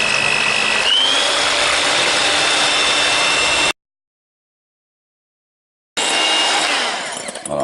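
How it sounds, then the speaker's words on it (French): An electric mixer whipping egg whites for chocolate macarons whirs loudly and steadily up close, cuts out completely for about two seconds, then starts again. "Alors, deuxième opération, on va monter les blancs."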